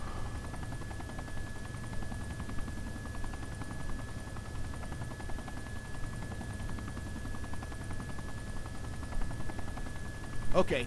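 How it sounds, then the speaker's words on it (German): Simulated AH-64D Apache helicopter flying in the Arma 2 video game, a steady low rotor drone and whine held throughout at even loudness, with a brief louder burst at the very end. "sind jetzt mit unseren AH-64D ins Landesinnere geflogen"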